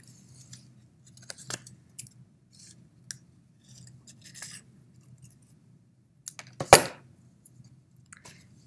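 Scissors snip a small shape from paper for a roller skate collage, with sparse close clicks and short cuts spread across the clip, then one louder snip near the end, over a faint low hum.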